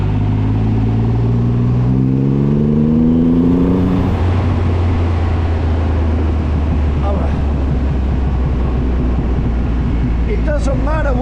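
A Triumph Rocket 3R Storm motorcycle accelerates hard, its engine pitch climbing through gears in a loud, close roar before settling into a steady high-speed drone with wind rush and a brief voice near the end.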